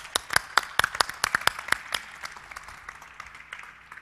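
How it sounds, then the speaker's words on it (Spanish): Audience at a tech conference session breaks into a burst of sharp claps that quickly peaks, then thins out into scattered, fading applause over about four seconds. "¡Un aplauso!"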